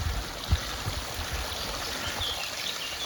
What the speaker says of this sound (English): Somehow water comes through there.